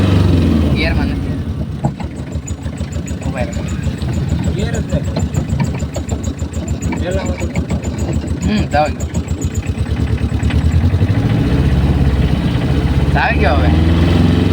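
A tractor engine runs steadily and loudly close by, a continuous low rumbling throb throughout, with a voice briefly speaking over it.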